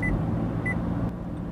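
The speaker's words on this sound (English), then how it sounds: "If you then put your turn signal on, the icon will flash and beep." Two short electronic warning beeps from a 2013 Nissan Altima's blind spot warning, evenly spaced over a low steady cabin hum.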